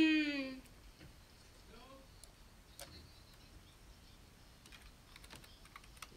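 Fingers tap on a computer keyboard in sparse, irregular clicks at close range, fairly faint against a quiet room, after a brief louder sound at the start.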